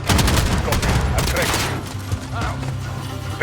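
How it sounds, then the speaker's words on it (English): Gunfire crackles in dense, rapid volleys in Call of Duty: Modern Warfare combat, loud and continuous with overlapping shots and a sharper report near the end. "The gunshot."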